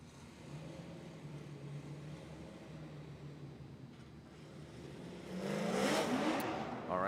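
Nissan S15 drift car with a Vortex supercharged LS V8 on Falken tires at a Formula Drift qualifying event, a distant engine drone that swells into a louder revving surge near the end.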